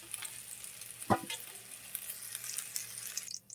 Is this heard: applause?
no